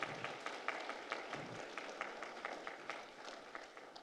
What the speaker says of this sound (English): let's give Nasia a round of applause in her absence.